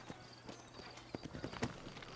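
Horse hooves clip-clopping in the Red Dead Redemption video game, a quiet series of uneven hoof knocks at a walking pace over soft background ambience.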